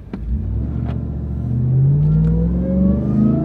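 A 702-horsepower supercharged Dodge Ram TRX accelerates hard on a road, its deep engine rumble swelling as a rising supercharger whine climbs steadily in pitch. The sound is loud and close, with no talking.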